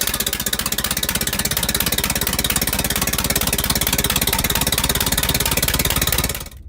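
A 1929 Allis-Chalmers Model U tractor engine runs with a rapid, steady staccato exhaust beat, loud and close, holding an even rhythm before cutting off abruptly at the end.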